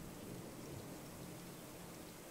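Steady rain in the Raft survival video game: a dense, even hiss of falling water that holds constant and fairly loud throughout, with a low rumble beneath it and no voices.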